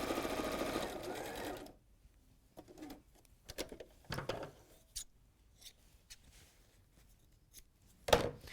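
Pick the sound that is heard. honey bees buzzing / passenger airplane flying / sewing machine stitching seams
sewing machine stitching seams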